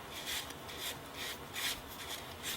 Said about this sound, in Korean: 휴지로 겉에를 또 문지르듯이 딱 닦아줍니다